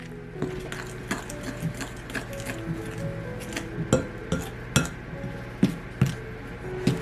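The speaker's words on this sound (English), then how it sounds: "You're going to knead it in there just a little bit using the fork." A fork working dough in a bowl, with repeated scraping and clinking taps against the bowl in an uneven rhythm, close and fairly loud, with no talking.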